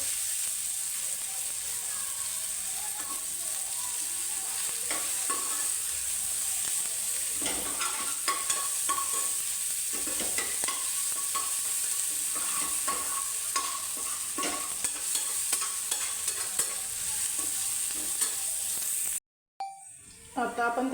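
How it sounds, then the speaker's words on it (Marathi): Chopped onion with a pinch of salt frying in a pan for a Marathi paratha filling, a continuous bright sizzle with repeated stirring scrapes close up, ending in a brief cut near the end. "पटकन भाजावा म्हणून त्याच्यामध्ये आपण घालायचं थोडंसं मीठ त्याच्यामुळे कांदा आपला पटकन भाजला जातो"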